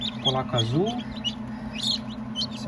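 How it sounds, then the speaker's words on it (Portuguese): Newly hatched chicks in an incubator give a few high, thin peeps and chirps, faint and intermittent, while a person talks over them close by. "eram 20, então deve ter uns 16 pintinhos aqui"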